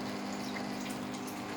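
Water flows steadily into a Midea washing machine after its inlet solenoid valve was repaired, a constant rushing hiss with a low pump-like hum throughout, no speech.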